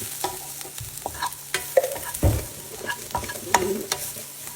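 Cumin powder stirred and frying in a pan for a mackerel curry, with scattered scraping stir strokes and light sizzling, one louder knock midway.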